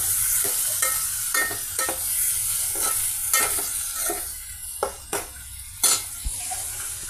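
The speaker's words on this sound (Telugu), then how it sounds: "ఈ పెద్దలిపాయ పచ్చిమిర్చి టమాటా పీసెస్ ఆయిల్తో ఫ్రై చేస్తున్నామండి" Onion, green chili and tomato pieces fry in oil with a steady high sizzle. A utensil stirs through them, adding sharp scrapes and clinks at irregular intervals, and the sound is close and moderately loud with no voices.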